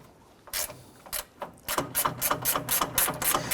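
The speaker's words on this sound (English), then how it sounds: "This is going to unbolt the center beam from the radiator support." A ratchet works loose the bolts on the radiator support center beam of a 2012–2017 Toyota Camry, giving quick rhythmic metallic clicks in short bursts, close and crisp, with no speech.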